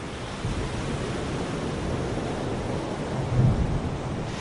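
A thunderstorm at the beach produces dense, steady rain and surf-like roar, with a low rumble of thunder swelling briefly near the end.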